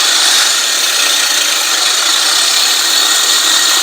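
A 20-inch, 7-blade California Trimmer RL20h reel mower with a Honda GX120 engine spins its reel against the bedknife while backlapping with lapping compound. It gives a steady, loud, hissing grinding rasp that holds without a break and has no talk over it.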